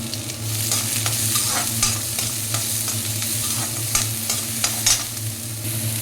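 Onions frying in a pan for ragi soup, with a dense, steady sizzle up close and repeated scraping stirs that knock now and then against the pan.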